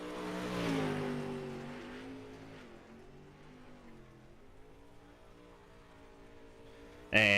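Modified race cars at Eldora Speedway accelerating at the green flag, a loud engine roar swelling early and then fading into a steady drone, with a sharp burst of sound at the very end.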